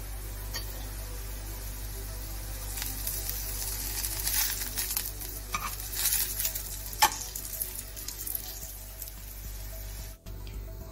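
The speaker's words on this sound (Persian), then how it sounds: "اون رو زیر رو میکنیم تا دو طرف کاملا بادمجون سرخ بشه" Eggplant frying in hot oil while being turned over in the pan, a steady close sizzle with occasional crackles and light stirring clinks, no voices.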